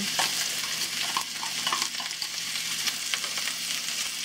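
Chopped onion fries in a hot pan, a steady close sizzle and crackle that holds throughout, with occasional stirring scrapes and no talk.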